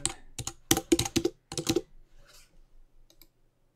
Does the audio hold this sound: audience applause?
no